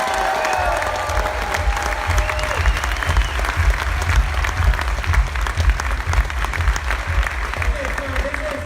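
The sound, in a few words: audience applause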